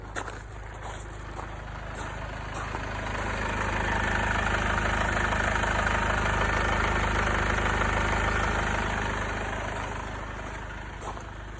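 A Mercedes B200 W246 with the OM651 engine idles after a timing chain tensioner replacement, giving a steady, even drone with a faint ticking texture that swells slightly in the middle and holds constant, with no talk.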